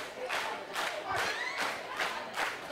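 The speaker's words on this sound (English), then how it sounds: "Crowd here firmly behind the Gymnasty Boys as Timmy Lou calling for White Mike" A wrestling crowd at an Action Packed Wrestling show cheers and chants for a tag team, rising and falling in rhythmic surges with shouts, loud and continuous throughout.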